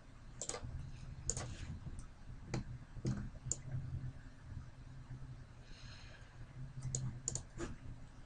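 Mouse clicks sound during 3D modeling of a C-clamp in Fusion 360: a sparse, irregular run of sharp close ticks, some in quick pairs, over a low steady room hum, with no talking.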